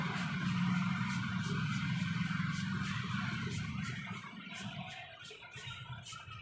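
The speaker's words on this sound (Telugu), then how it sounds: "పక్కన ట్రాఫిక్ సౌండ్ వస్తూ ఉంటుంది, కొంచెం డిస్టర్బెన్స్ వస్తాయి" Traffic on a nearby road, a vehicle engine droning loudly at first and then fading into a softer, steady roadway hum.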